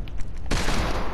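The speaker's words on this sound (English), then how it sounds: "I'm godly aiming with this hand cannon right now." Hand cannon fire in the Fortnite video game: a loud, sudden burst of gunfire erupts partway through and then keeps going as a dense, sustained barrage.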